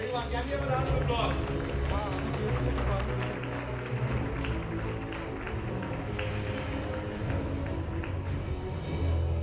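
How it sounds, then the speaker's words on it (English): An audience gives a round of applause at an Airbus event in India, dense steady clapping that runs throughout with crowd noise and voices mixed in. "Everyone, can we have a round of applause?"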